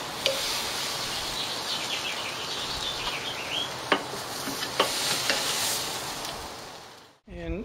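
White corn brushed with olive oil sizzles steadily on an outdoor grill, a close, even crackle with a few sharper pops, ending in a brief silence.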